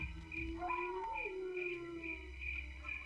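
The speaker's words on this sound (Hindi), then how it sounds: "ये कुत्ता क्यों रो रहा है यार?" A dog howls at night in a quiet village: a single long, wavering howl, moderately distant, over a steady, regularly pulsing high chirp in the background.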